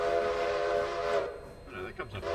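Steam locomotive whistle in the railway game Railroader, a sustained tonal blast held for over a second before fading, followed by brief speech over low rumbling.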